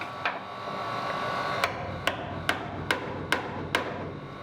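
Heavier hammer striking a timber window frame under construction for a marine double-glazed window, six sharp evenly spaced knocks after an opening blow, close and clear over a steady workshop hum.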